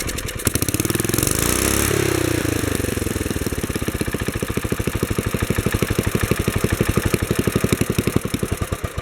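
A Wheel Horse 704 garden tractor engine runs loud and close, surging up to a fast, over-high rev with a rapid steady firing pulse and no voices.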